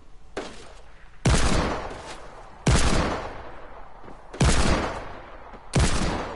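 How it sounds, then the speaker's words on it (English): Video game gunfire in a duos match comes as four loud, heavy bursts at roughly even intervals, each decaying into a rumbling tail. "We're getting shot."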